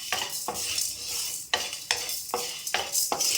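Salt and spices for sambar powder are dry-roasted in a pan, stirred with rhythmic scraping strokes about twice a second. A dry, crackling sizzle sounds close and steady between the scrapes.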